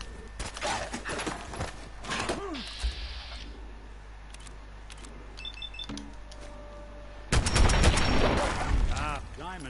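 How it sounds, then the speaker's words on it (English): Gunfire in Fallout 4, sharp shots with a burst at the start and a dense flurry of rapid fire near the end, separated by quieter in-game ambience and mechanical clicks. "Opening fire."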